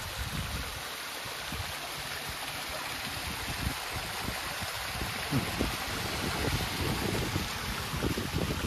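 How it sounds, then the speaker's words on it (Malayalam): A small stream of water runs past broken pipe pieces on a hillside estate at Elapara, giving a steady broadband rushing hiss. Low gusts of wind buffet the microphone now and then, and no one speaks. "ഇതുവഴി വെള്ളം ഒഴുകി പോകുന്നുണ്ട്."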